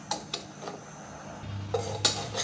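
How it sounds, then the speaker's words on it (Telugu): A spoon stirs ragi semolina frying in a pan. It scrapes and taps the metal in a few distinct clinks over a low sizzle, close by and with no talking. "ఈ రవ్వని ఒకసారి కలుపుకుని మంచి బ్రౌన్ కలర్ వచ్చేంత వరకు ఫ్రై చేసుకుందామండి"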